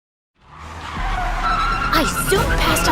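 A speeding car skids and squeals its tires as it races past other cars, the engine roar swelling in after a silent start and staying loud and close throughout, with screeching sweeps near the end.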